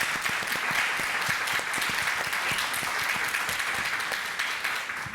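Sustained applause from an audience at a conversation event on freedom of expression, a dense steady wash of many hands clapping for the full length at constant loudness, with no talk over it.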